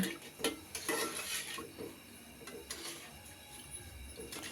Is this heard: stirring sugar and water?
yes